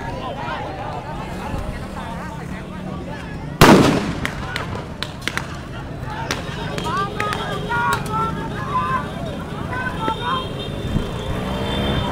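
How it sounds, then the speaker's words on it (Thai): Police fire rubber bullets at a protest crowd near Sanam Luang in Bangkok, a sharp loud bang standing out over steady crowd noise and nearby talk, followed by scattered smaller pops and cracks. "มีการใช้กระสุนยางแล้วครับตอนนี"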